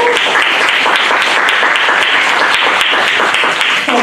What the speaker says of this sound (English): Let's have a round of applause for both of them.